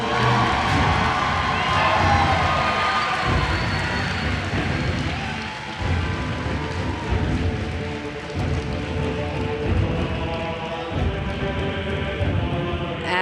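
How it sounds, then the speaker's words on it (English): A large BlizzCon esports audience at a World of Warcraft Arena grand final cheers and applauds for team Skill Cap, a loud, dense roar of clapping and shouting that swells early and stays sustained throughout. "Please, a big round of applause for Skill"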